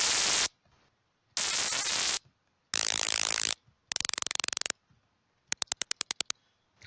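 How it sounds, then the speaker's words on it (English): Synthesizer noise switched on and off in bursts: long hissing blocks with brief silences between, then the bursts shorten into rapid chattering pulses, ending in a quick string of sharp clicks. "You can also even pulse noise."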